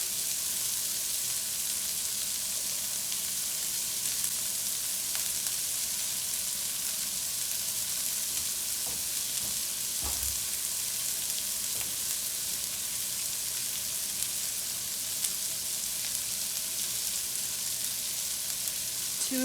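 Chopped onion and celery sizzle steadily in a hot pan, a close, even crackle of frying that holds constant throughout with only faint occasional stirring taps.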